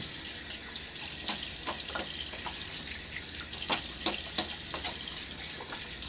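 Water from a running tap splashes and trickles into a sink during a wet shave, a steady close rush broken by irregular splashes of hands scooping water, with no speech.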